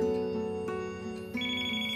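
A telephone rings with a steady electronic melodic tone that shifts pitch partway through, sounding clear and continuous, with no one speaking over it.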